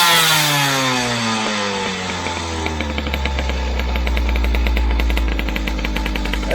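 A scooter engine fitted with a Malossi kit revs loudly and then drops slowly, struggling to fall back to idle, its steady close buzz and rattling pulse filling the air with no voices.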